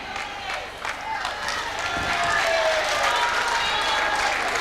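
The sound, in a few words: crowd reacting to umpire's decision at netball match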